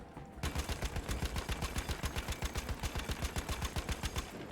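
Machine gun fire in the video game Battlefield 1: a fast, steady burst of rapid, evenly spaced shots that runs for several seconds, loud and close, with no talking.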